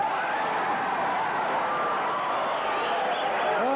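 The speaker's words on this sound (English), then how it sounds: "Oh, the crowd get excited." A crowd at a boxing match roars and cheers in a steady, loud wash of voices that swells slightly toward the end, with a commentator talking over it.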